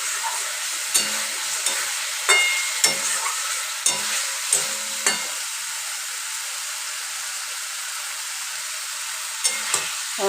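Egg kasha sizzles in a pan as it is stirred, a constant close frying hiss punctuated by a string of spoon scrapes and knocks, with a quieter stretch in the middle.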